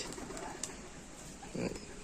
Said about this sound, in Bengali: এটা ফিমেল পায়রা